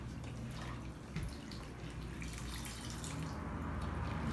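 Water wrings out of soaked naan bread being prepared as fish bait, a steady close dripping and trickling of liquid that carries on throughout without talk.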